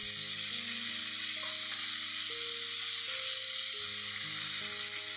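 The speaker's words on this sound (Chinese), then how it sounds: "我哋咧放啲咸猪肉落去煎到两边有色。" Salted pork sizzles as it fries in hot, smoking oil in a wok, a steady close hiss with no talk.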